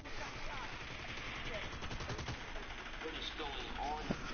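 Rapid automatic gunfire in a video game team match crackles in a dense, continuous burst with scattered sharper shots, mixed with game noise and a voice speaking.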